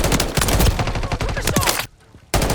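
Rapid gunfire in Modern Warfare 3, with a dense stream of loud, close shots and clattering bursts that stops abruptly into near silence before firing starts again at the end.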